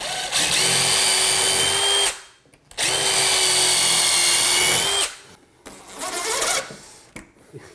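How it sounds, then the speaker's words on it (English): A power drill whirs loudly in two long bursts of about two seconds each while pre-drilling a hole into wood trim, followed by a shorter, uneven burst and a few brief revs. "So I'm gonna pre-drill my hole."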